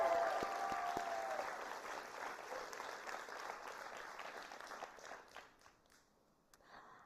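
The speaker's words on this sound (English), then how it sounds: "So one last big round of applause for our amazing volunteers." Audience applause for volunteers at a university ballroom dance show, a broad wash of clapping that starts full and gradually thins and fades over several seconds, with a few scattered claps near the end.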